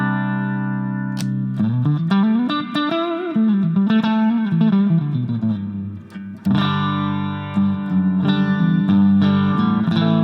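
Electric guitar played through a Mooer SD30i amp on its Twin Reverb clean preset, with ringing chords and single-note bends over about ten seconds, bright and sustained, heard alone without talk.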